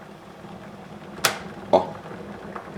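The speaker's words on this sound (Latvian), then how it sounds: "Tas klikšķis ir tāds, tas nozīmē, ka tas ūdens ir gatavs." Electric kettle switching off once the water is ready, heard as two sharp clicks about half a second apart over a quiet room hum.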